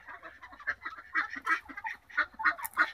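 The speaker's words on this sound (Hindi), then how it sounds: "ये देख सकते हैं पानी पीते हुए बत्तख को" Ducks near water on a farm give a busy stream of nasal honking quacks, several birds calling close and loud in overlapping bursts with no talking.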